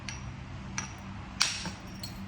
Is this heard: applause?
no